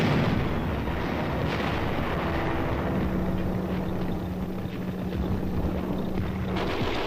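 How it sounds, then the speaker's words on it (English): Enemy gunfire and artillery in wartime combat footage, a dense continuous roar of distant firing and rumbling blasts, loud and unbroken with no voices. "Enemy fire is encountered."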